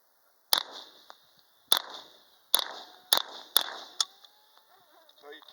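A Claridge Hi-Tec pistol fires six sharp, cracking shots at irregular short intervals, each with a brief ringing tail, with faint mechanical clatter afterward.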